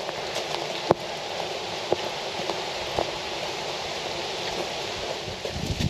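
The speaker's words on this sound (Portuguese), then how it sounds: "A cascata hoje tá ligada." A waterfall in Ogaki gives off a steady broadband rush of falling water with a few faint splashes and knocks in it.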